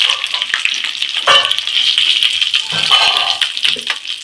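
Chili powder and sambar powder frying in oil for a Chettinad fried rice, a loud, close sizzle with scraping stir strokes that pulses through a few seconds.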